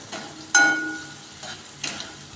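Chopped onions fry in oil in a pan for besan jhunka while a spoon stirs them, giving a soft sizzle broken by a few sharp scraping clatters. No one speaks.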